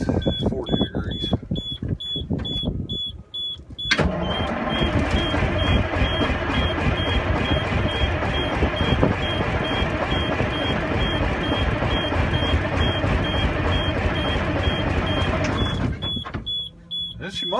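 A cold Detroit diesel engine cranks and fires roughly on a chilly day, then settles into a loud, steady clattering idle with a repeating electronic beep over it, before cutting off; voices speak around it.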